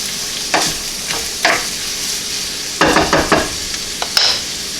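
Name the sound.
basmati rice sauteing and toasting in a pan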